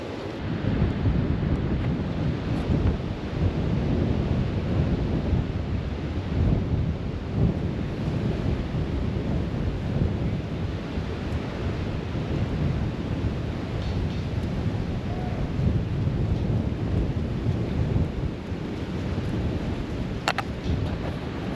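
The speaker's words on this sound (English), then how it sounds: "the storm blew in, blew a bunch of dust, and then now it's kind of raining a little bit." A dust storm rumbles with steady low wind and a soft patter of light rain, continuous and fairly distant, with no voices.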